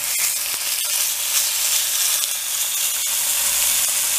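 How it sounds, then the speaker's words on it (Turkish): A ribeye steak sizzles loudly in a cast iron pan, a dense, steady frying hiss with occasional crackles and pops, close up and continuous, with no voices. "Şimdi bu eti tavaya attık. Bu çıtırtıyı duyacağız arkadaşlar."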